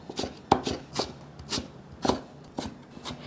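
A knife cuts a peeled carrot into strips on a board, about eight sharp chopping knocks at an uneven pace, close and clear.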